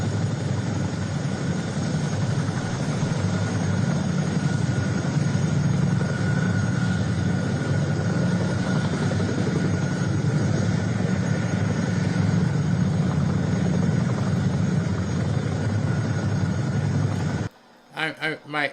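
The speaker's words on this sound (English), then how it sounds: "President Trump is landing right now as we speak." A helicopter carrying President Trump lands, its steady rotor and engine roar filling nearly the whole stretch before cutting off abruptly near the end.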